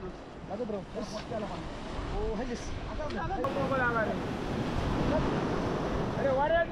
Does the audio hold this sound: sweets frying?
no